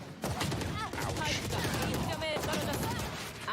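Rapid gunfire bursts from the video game Valorant during a VCT Challengers Korea esports match, loud and continuous throughout, mixed with game effects and casters talking over the action.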